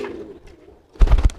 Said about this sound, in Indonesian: Merpati pos terbang lucu.